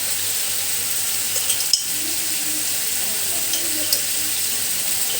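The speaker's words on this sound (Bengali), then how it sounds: "এখন আমি মশলাগুলো দিয়ে দেব। 1 মিনিটের মতো ভেজে নিব।" Chicken masala spices fry in a pan for a white sauce cheese pasta, giving a steady close sizzle with light stirring scrapes and a few small clinks throughout.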